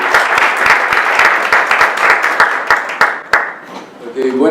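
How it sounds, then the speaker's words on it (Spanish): A church audience breaks into loud applause welcoming a guest speaker at a conference, steady clapping from many hands that thins into scattered claps before fading out. "por favor un fuerte aplauso"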